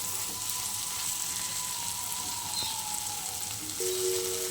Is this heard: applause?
no